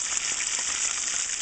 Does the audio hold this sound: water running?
no